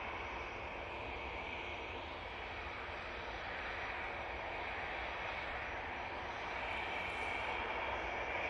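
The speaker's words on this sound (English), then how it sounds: "we have the little pocket rocket, which is this ERJ 145 for Logan Air, going off to Inverness" Embraer ERJ 145 regional jet of Logan Air departing Manchester Airport, a steady distant engine roar building slightly louder toward the end, broad and continuous without interruption.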